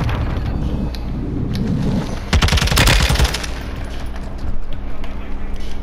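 Automatic gunfire erupts in Call of Duty Warzone on Ashika Island, a loud burst of rapid shots over roughly a second amid game noise, with players talking over the action.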